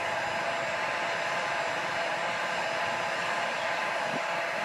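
A heat gun set around 730 Fahrenheit blows steadily on a faded car door panel, a constant close airy roar with no pauses and no talk.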